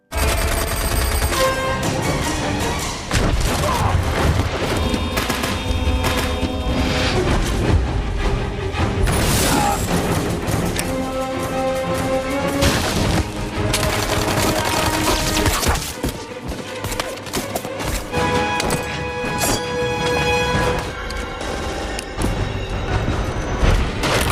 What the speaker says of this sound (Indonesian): Bentrokan senjata pun terjadi semakin sadis dan brutal